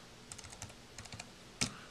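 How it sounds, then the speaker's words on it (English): A computer keyboard is typed on one-handed, with faint, scattered key taps in two short bursts and one sharper keystroke at the end. "I'm typing with one hand, so bear with me."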